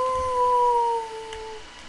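An Australian mix dog gives a single drawn-out howl, a clear wavering tone that slowly falls and fades, close by with no talk.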